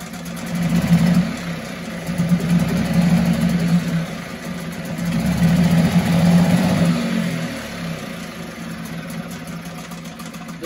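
A 1974 Mercury 4 hp outboard motor running after being pull-started, a buzzing, uneven two-stroke putter that swells and fades, close and moderately loud.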